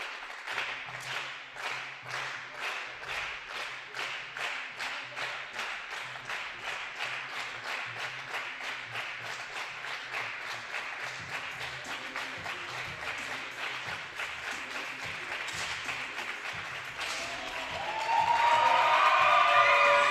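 Spectators at a men's solo air rifle shooting competition in Osijek, Croatia clap in a steady rhythmic beat, then break into louder mixed applause and cheering near the end.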